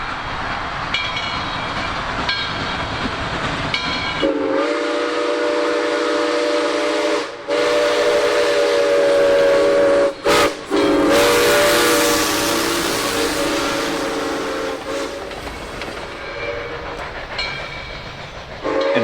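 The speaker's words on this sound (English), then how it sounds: "As the train heads back through Noble" A steam train runs through Noble in the Tennessee Valley with a steady rumble and clatter, and its long, loud whistle sounds several times with brief breaks. No one speaks.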